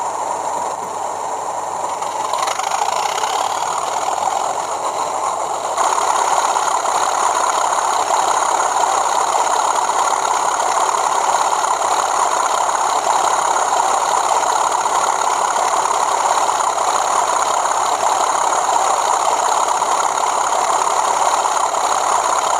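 Engine thrash from a Bachmann Class 37 diesel locomotive model's sound decoder: a steady, droning diesel roar that swells a few seconds in and holds continuously with no talk.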